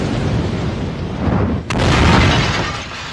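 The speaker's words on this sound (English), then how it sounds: "Horizon reveals the devastating effects of a new and disturbing terrorist weapon," A deep explosion effect depicting a dirty bomb: a low rumbling swell with a sudden sharp crack partway through, then a heavy sustained roar that slowly fades.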